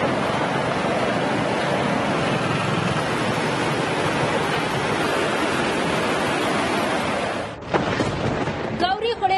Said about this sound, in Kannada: ಪುತ್ತೂರಿನ ಸರ್ವೆಯಲ್ಲಿ ಗೌರಿ ಹೊಳೆ ಉಕ್ಕಿ ಹರಿಯುತ್ತಿದೆ